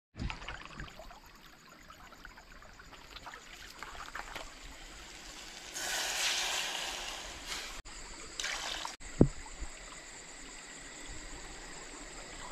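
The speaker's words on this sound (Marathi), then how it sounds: "आणि खालून मस्तपैकी पाणी जातोय बघा." At a jungle campsite, water runs beneath a hut, a soft continuous trickle and gurgle that swells into a louder rushing stretch midway, with faint insect chirps in the background.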